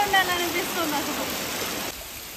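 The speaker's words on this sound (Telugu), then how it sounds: "మీకు కూడా వినిపిస్తుంది ఈ వాటర్ సౌండ్." Forest stream water in Maredumilli rushes in a continuous broad hiss, near and fairly loud. A voice is heard briefly at the start.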